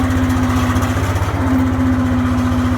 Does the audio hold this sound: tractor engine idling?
yes